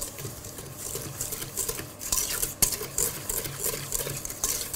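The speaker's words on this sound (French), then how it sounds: "Nous allons mélanger ici nos œufs et notre sucre." Eggs and sugar being mixed in a bowl for a gluten-free carrot cake, a steady quiet whisking and scraping with small clinks against the bowl's side.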